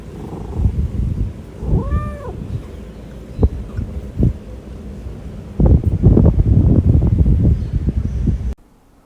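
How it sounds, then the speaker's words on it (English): A cat meows a few times with rising, curving cries near the two-second mark. Close handling thumps and rustling follow as it is petted, with no talk. "I did get to play with this cat though"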